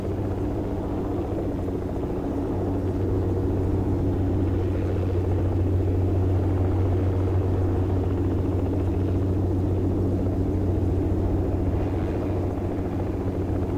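A helicopter in the military video game Project Reality for Battlefield 2 drones with a steady low rotor and engine rumble, continuous and heavy throughout with no voices on top.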